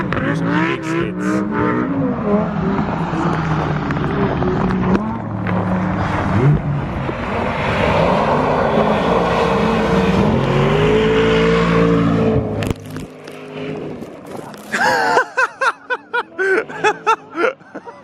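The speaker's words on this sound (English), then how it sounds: "I'll show you what it's like when the pro drivers come around and do some big skids." Lamborghini cars on ice during pro-driver hot laps sweep past with loud, rising engine roars and revving. Close laughter and voices are mixed in, and uneven bursts follow at the end.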